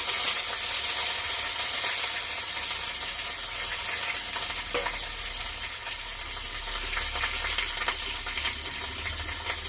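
A tadka of spices sizzles steadily in hot oil for a leafy-greens dal, a bright crackling hiss that stays even throughout, with a few faint metallic clinks.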